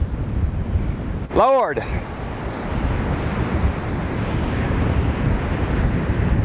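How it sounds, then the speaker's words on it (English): Strong coastal wind of around 30 to 40 mph batters the microphone with constant roaring gusts and blowing sand beside a Jeep on the shore, with surf behind it; a man briefly exclaims near the start. "don't know if we're gonna be able to do any fishing in this damn wind."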